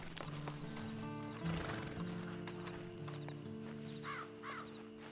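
Horse in the Red Dead Online video game neighing and whinnying with clip-clopping hoofsteps, fairly close, over a steady low game music and ambience bed, with a couple of distinct whinnies near the end.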